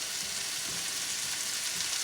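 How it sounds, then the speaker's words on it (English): Seasoned chicken browns in a shallow layer of grease with a steady, close sizzle and soft crackling pops throughout, no talking. "I'm just going to drop the chicken down in here"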